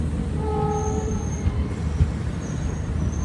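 A train rumbles at Awantipora railway station in Kashmir, with a steady low roll, faint wheel squeals and a distant horn-like tone, no voices.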